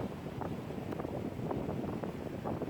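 Steady wind gusting outdoors across a microphone during a yoga class, a continuous low rumbling buffet with no voices over it.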